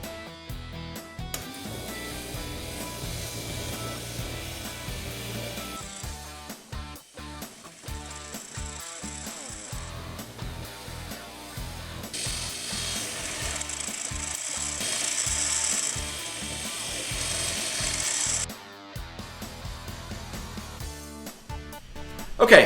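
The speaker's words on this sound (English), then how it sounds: "I have removed the grinding wheel and I've replaced it with this denim buffing wheel." Denim buffing wheel charged with red grit compound polishing a throwing star cut from a saw blade, a whirring, rubbing drone with scraping and rattling that swells and fades as the metal is pressed against the wheel.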